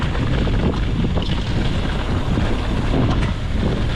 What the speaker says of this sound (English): hold on, I got a lot of wind here